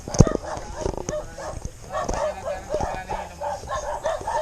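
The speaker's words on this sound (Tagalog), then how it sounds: "So many dogs right there." Several dogs bark and yip in a steady, overlapping chorus at moderate distance, with one sharp loud bark near the start, while people talk excitedly over them.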